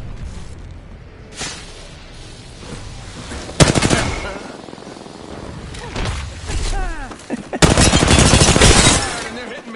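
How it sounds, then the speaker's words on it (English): Heavy video game battle gunfire: loud bursts and rapid volleys of shots, with two especially dense, sustained barrages in the middle and near the end, over a constant background din. "Taking fire."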